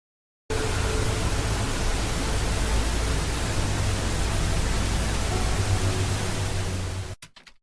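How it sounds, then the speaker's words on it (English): Steady, dense hiss of pink noise with a deep rumbling low end, starting abruptly after a brief silence and cutting off near the end. "Maybe I want to add some pink noise and I want to mix it in with the audio."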